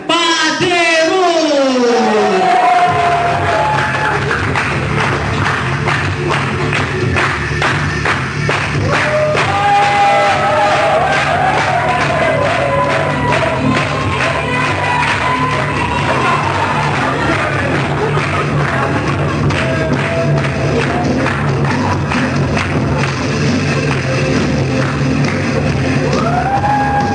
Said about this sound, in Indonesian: kita tampilkan dengan tepuk tangannya boleh lah